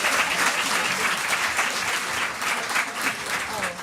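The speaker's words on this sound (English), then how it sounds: "Can we please have a round of applause for Annika Allen-Gray and Dr." Steady applause from a conference audience at a maternal health event, a dense continuous patter of many hands held at even loudness throughout.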